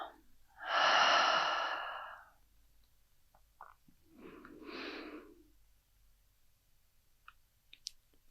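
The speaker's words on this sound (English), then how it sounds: "Take a couple of deep breaths in through the nose and maybe sigh it out throughout the mouth" Slow deep breathing during a guided yoga session: a long, loud breath that fades out, then a softer second breath a few seconds later. The sound is close and quiet, with no talking.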